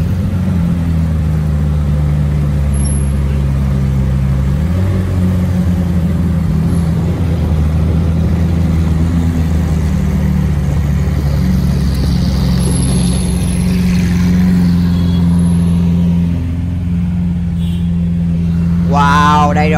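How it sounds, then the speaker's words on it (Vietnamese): A McLaren Senna MSO supercar engine runs at a steady, loud drone alongside a Lamborghini Aventador S at a parade, one brief pitch shift early on and a rising rev swell at the very end. "Và đây là tiếng động cơ nó"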